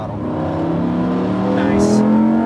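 Lamborghini Huracan Evo on a track at full throttle: a loud, close engine note rising steadily in pitch as it accelerates, with a driving instructor's voice nearby.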